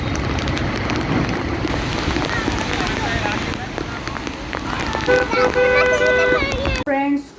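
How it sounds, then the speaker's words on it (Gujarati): Heavy monsoon rain pours down outside a house in a steady, dense hiss that runs the whole time, with voices talking over it and a brief drop near the end. "વરસાદ તો બહુ જ છે બહાર"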